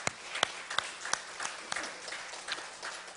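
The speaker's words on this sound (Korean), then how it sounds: "이 시간 찬양대 박수 한번 합니다." Sparse, scattered hand claps from a church congregation at a Sunday service, applauding the choir; a thin, quiet patter of a few distinct claps rather than a full ovation.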